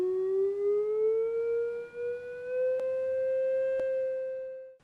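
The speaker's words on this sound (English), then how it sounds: "Listen to the effect that altering the frequency has on the pitch of the sound." A signal generator produces a steady pure tone that glides slowly upward in pitch as its frequency is raised, heard alone with a couple of faint clicks.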